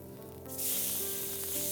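A garlic paneer steak is flipped onto a smoking-hot pan and bursts into a sudden loud, bright sizzle that holds steady.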